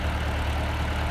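A tractor engine idles nearby with a steady, deep, continuous rumble and no voices.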